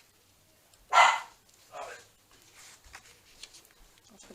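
A dog barks at a delivery arriving, two loud broadband bursts close by, the first the strongest, followed by quieter scattered household noise and a brief spoken word.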